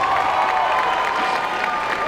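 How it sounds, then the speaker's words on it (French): A theatre audience claps and cheers for the prop crew at a Belgian improv selection event, a dense, steady wash of applause filling the room without pause. "Est-ce qu'on peut pas applaudir les accessoiristes qui sont exceptionnels aujourd'hui?"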